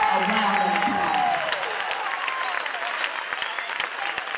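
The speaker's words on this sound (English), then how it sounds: "Please give them and their parents a round of applause" A crowd at an eighth grade bridging ceremony applauds steadily, a dense wash of many hands clapping, with a voice speaking over the start before the clapping continues on its own.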